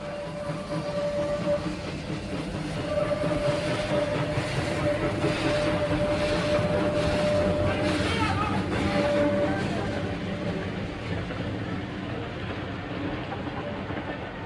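An old DHP steam locomotive, number 755, climbs the old Beirut line toward the Lebanese border with a steady, heavy rumble and rolling clatter, a faint whistle tone running through it, continuous and fairly close.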